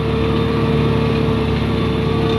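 A Deutz-Fahr 6185 RC Shift tractor engine drones loud and constant while pulling an implement through easy-working soil, a steady close-up roar without talk.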